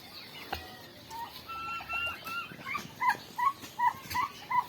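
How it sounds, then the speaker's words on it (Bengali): Turkeys let loose in an open grassy field give a run of short, bright gobbling and clucking calls. The calls come as repeated bursts that grow louder and more regular toward the end, over light outdoor background noise. "আবার আপনাদেরকে টার্কি মুরগিগুলো দেখাই"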